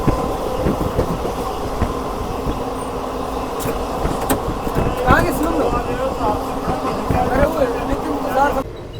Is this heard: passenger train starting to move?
yes